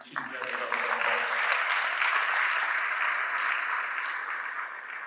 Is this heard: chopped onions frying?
no